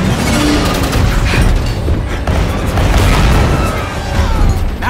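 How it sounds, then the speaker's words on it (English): Loud, continuous action-scene din from a Marvel movie, with booming gunfire and explosive bursts layered into a dense, unbroken roar with no clear gaps. "Now they're firing at us."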